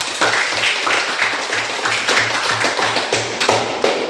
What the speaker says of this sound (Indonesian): Tepuk tangan untuk kalian ini.